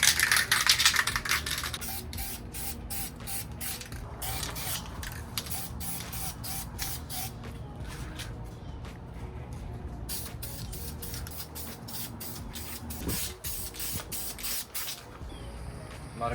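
Second coat of flexible-finish specialty coating in flat black sprayed onto the interior parts of an Acura TSX, a close hiss in rapid short bursts with brief pauses between them and no talking.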